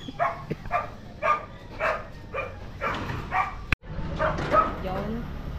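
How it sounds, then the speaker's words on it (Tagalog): Dog barking repeatedly in short yips at a home setting, a run of quick barks close by with people talking over and around them. "Ay, aso."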